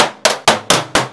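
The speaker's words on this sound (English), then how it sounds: "I collected a bunch of crap I could hit with things, like this metal trash can." A metal trash can is struck five times at an even, quick rhythm. Each close, sharp bang rings briefly before the next hit in a quiet room.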